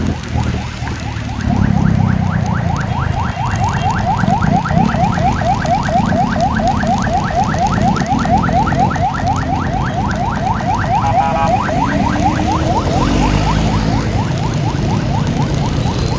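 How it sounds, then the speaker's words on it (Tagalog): A rapid, warbling ambulance siren wails continuously at steady volume over low traffic rumble, as if passing close by. "Tabi muna tayo kasi mayroong ambulansya."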